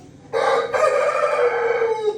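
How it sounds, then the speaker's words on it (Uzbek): A rooster crows once, loud and close, a long rising then sustained call lasting nearly two seconds against a quiet farmyard background. "Mana xo'roz."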